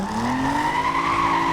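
A modded car engine in the video game Need for Speed Most Wanted holds a steady, loud tonal drone whose pitch climbs slightly as it pulls, with no talk over it.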